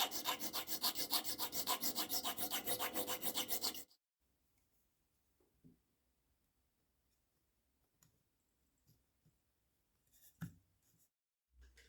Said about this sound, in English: I decided to sand this down and file for new slots